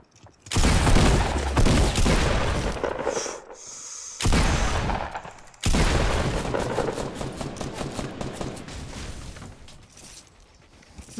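Heavy gunfire in a Fortnite match arrives in loud, dense bursts with booming blasts and rapid repeated shots, breaking off briefly between volleys.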